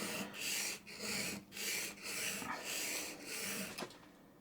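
A steel cabinet scraper is drawn repeatedly across an abrasive grit to raise a burr, making about seven rhythmic, raspy rubbing strokes with brief pauses, close and fairly quiet.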